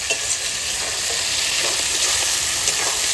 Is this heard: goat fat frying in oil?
yes